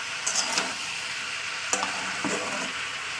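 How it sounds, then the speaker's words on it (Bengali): Potatoes, pointed gourd and okra fry over a high gas flame in a pan, a steady moderate sizzle broken by a few sharp scrapes and clinks of a stirring spatula; no talk. "জোরে দিয়ে ভালো করে একটু ভাজা করে নেবো"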